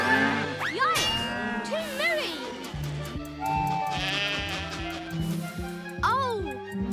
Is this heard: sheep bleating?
yes